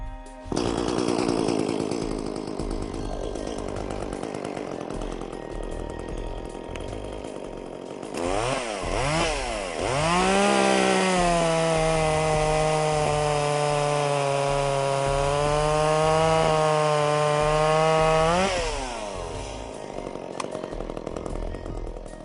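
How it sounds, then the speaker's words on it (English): An ECHO gas chainsaw idles, then revs up sharply and holds a loud, steady whine while cutting through a log before dropping back to idle. "Now let's start our chainsaw."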